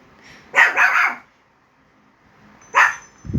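A pet dog barks indoors at night in a home, a loud burst of several quick barks followed after a pause by another single bark, with no talking.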